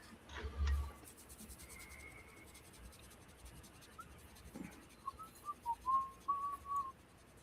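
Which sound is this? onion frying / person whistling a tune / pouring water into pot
person whistling a tune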